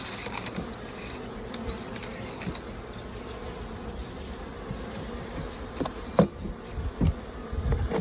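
Honeybees buzz steadily up close around an open hive in a dense, continuous drone, with a few soft clicks and bumps toward the end.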